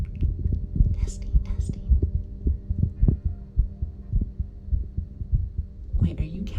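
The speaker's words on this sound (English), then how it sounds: "are you counting my heartbeats?" A heartbeat thumps as a steady series of soft low pulses, picked up close on a binaural microphone, with faint whispering and breathy noise over it.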